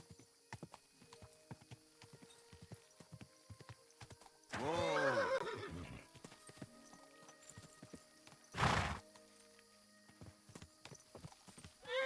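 A horse in Kingdom Come: Deliverance II whinnies loudly in a long, wavering neigh amid steady clip-clopping hooves, followed by a brief snort-like burst.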